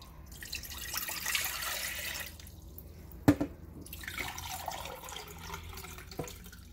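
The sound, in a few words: measuring out water for hummingbird food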